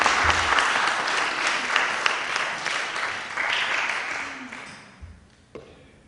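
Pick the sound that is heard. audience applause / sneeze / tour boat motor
audience applause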